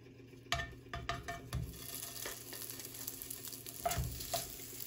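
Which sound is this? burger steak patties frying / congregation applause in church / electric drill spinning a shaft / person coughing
burger steak patties frying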